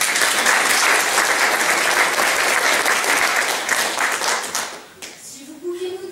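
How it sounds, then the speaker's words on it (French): Audience applauding at an adult amateur theatre workshop show, a thick burst of clapping that holds steady for several seconds, then thins out as a voice begins speaking near the end. "On peut l'applaudir bien fort."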